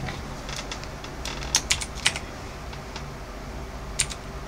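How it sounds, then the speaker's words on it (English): Sparse keystrokes on a computer keyboard while entering a character name in the game Oblivion, a few scattered clicks and a quick cluster near the middle, close and light over a steady background hiss. "And type in your character name."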